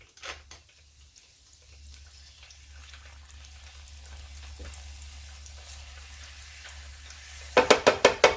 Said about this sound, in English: put these two in there, drop those down, get those frying